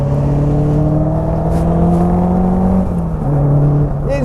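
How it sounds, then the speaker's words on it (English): A Caterham 310R engine drones loud and close from the cockpit, holding a steady revving note that dips as the gear changes and then climbs again, with slight burbles near the end. "You've got the exhaust down here by your right ear, which is banging and popping and making loads of noise."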